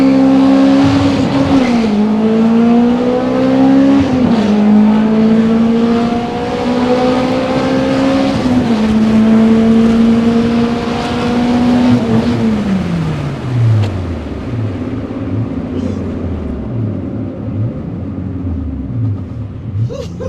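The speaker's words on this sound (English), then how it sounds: "So we're gonna launch the car." A Toyota RunX RSI with a 2ZZ-GE VVT engine and velocity stacks, launched hard, revs and climbs through gears, then drops off with a burbling, popping exhaust as it slows, loud and close.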